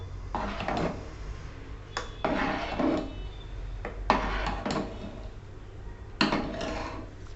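Spoon stirring rice into milk in a metal pot for kheer, a series of scraping, clinking strokes in bursts with pauses between, close and moderately loud, no talking.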